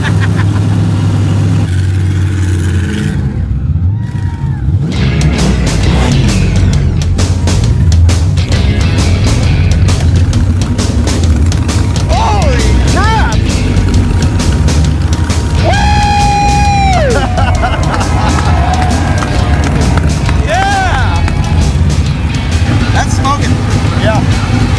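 A car engine revs hard and steadily through a tire burnout at a Power Tour car event, its loud mid-range roar mixed with tire squeal and crowd noise while people talk and shout throughout.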